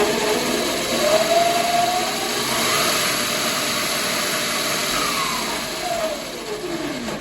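A 2000W MY1020 electric motor spins the rear wheel of a 60V Razor Ground Force drift kart, a steady loud whine and hum running continuously with slight pitch sweeps, close up and without speech.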